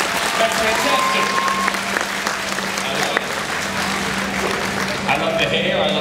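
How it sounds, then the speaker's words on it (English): An audience at a cosplay competition applauds steadily and fairly loudly, with crowd noise and a voice over the clapping. "now we have a round of applause"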